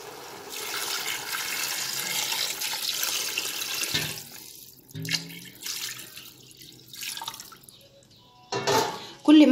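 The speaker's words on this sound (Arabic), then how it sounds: "هننزل بقى يا حبايب قلبي بالميه بتاعتنا." Water pours steadily into a pressure cooker pot over chopped onions for about four seconds, then gives way to clanks, splashes and handling noises around the pot.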